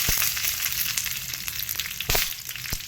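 Green chillies sizzle steadily in about two spoons of hot oil for a tomato chutney, a close, continuous crackling hiss with sharp pops scattered throughout and no voices.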